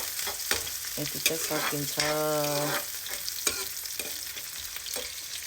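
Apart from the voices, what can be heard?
onion being stirred and fried in a pan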